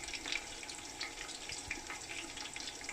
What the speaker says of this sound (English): So drain the oil and enter it inside your pot.